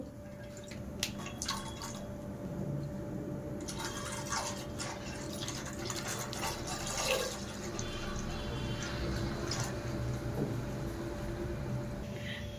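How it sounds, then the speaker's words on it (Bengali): Milk is poured steadily into a clean cooking pot, a continuous splashing liquid stream close by that runs the whole time with small drips and clinks, no talking. "আমি এখন মানে ঢেলে দেব দুধ তো একে একে দেখো সমস্ত দুধগুলো ঢেলে দেবো"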